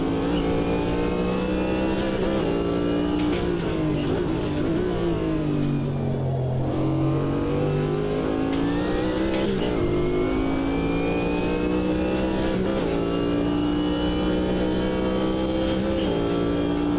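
Engine note of a Chevrolet Corvette GTP race car in Automobilista 2 revving and accelerating loudly and continuously, pitch dipping and climbing through gear shifts with no talk over it.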